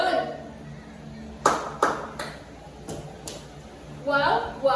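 A class claps and stomps in sets of three, sharp percussive hits spaced through the moment with a burst near the end, while a voice speaks between them.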